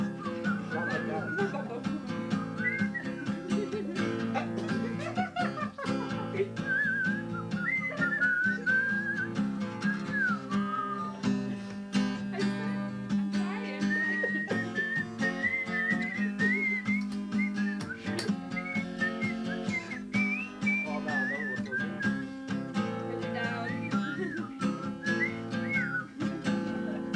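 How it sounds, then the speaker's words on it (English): A person whistles a melodic tune, loud and steady throughout, over a sustained musical backing with no talk. "Can you whistle?"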